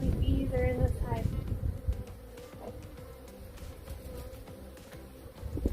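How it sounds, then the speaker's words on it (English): Honey bees buzz steadily inside an opened hive during a colony split, a low droning hum with some voices and handling noise mixed in, loudest at the start and again at the end. "Oh my goodness, look at how many bees are in this hive."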